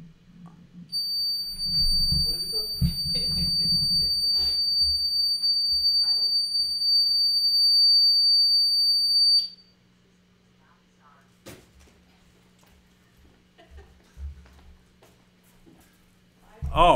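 Indoors, an alarm sounds with a continuous shrill electronic tone for roughly nine seconds before abruptly stopping, followed by quiet with scattered soft knocks. Someone speaks over the opening seconds.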